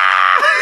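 A voice imitates a wrestler's scream as Norman Smiley is choked into a fence during a WCW Thunder match: one loud, sustained, strained shriek with a brief dip midway.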